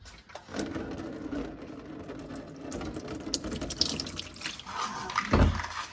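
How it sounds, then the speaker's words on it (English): Engine oil drains steadily from a 2016 Subaru Outback's 4-cylinder FB25 engine and splashes into a drain pan, a continuous trickling gurgle that swells near the end, with faint mechanical clatter in the background. "This is why I don't like draining oil"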